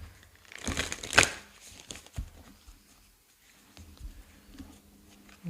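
A deck of cards gets shuffled up close in a short papery riffle burst early on, followed by a few softer card taps and rustles in an otherwise quiet room.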